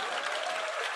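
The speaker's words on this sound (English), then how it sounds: "So the more applause, the more response they will have" An audience at a business talk claps steadily, a brief, even burst of applause from a modest crowd heard alone at moderate level.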